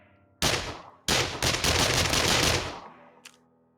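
A burst of about ten rapid automatic gunshots in a video game, loud and close, split into a short first volley and a longer sustained stream, then a lone faint shot.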